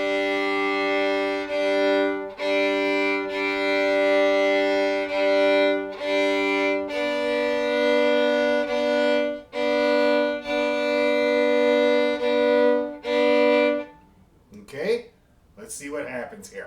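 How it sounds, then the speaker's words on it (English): A string instrument plays bowed double stops in a down-up bowing exercise, sustained paired notes changing every couple of seconds with brief gaps between strokes, ending in scattered quieter scrapes. "let's try this bowing exercise with these sets of double stops"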